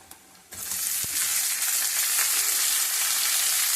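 Broad beans hit a hot oiled pan for a garlic chilli fry, setting off a sudden loud, continuous sizzle that holds steady after a quiet start, with a single clack of a utensil.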